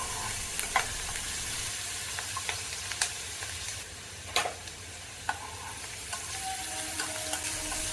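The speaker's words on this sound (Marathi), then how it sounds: "ते आपण परतून घेऊया आणि कांद्यासोबत याला सुद्धा आपल्याला भाजून घ्यायचं आहे" Ginger-garlic paste and onions sizzle steadily in hot oil in a pan, a soft continuous frying hiss broken by occasional clicks of a spoon stirring, with no talking.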